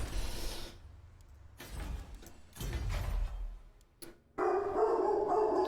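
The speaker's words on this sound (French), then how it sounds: "Ah, le chien." A dog barks in repeated bursts, loud and close, with brief quieter gaps between them and a sustained, strong stretch of barking at the end.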